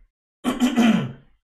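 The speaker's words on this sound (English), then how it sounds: "Let me just clear my throat." Someone clears their throat once, close up, in a rough, drawn-out burst that fades away. Silence surrounds it.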